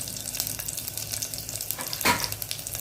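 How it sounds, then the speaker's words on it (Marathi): Whole spices (cinnamon, black peppercorns, cumin, sesame, asafoetida) roasting in a pan for Indrayani rice khichadi, giving a soft, continuous close-up sizzle with light crackles and one brief scrape of stirring. "हिंग पावडर, एक 2 मिनिट मसाला भाजून घेऊया।"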